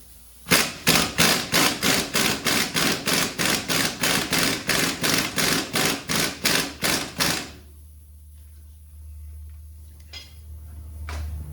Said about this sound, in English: Let's tighten it up. Check it with our ratchet.